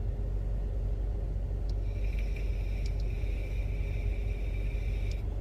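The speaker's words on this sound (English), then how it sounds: "Don't want to scare Bigfoot away with all the car noise, you know." Steady low car engine rumble while off-roading with family, a continuous drone with faint high chirps or squeaks above it and no talk.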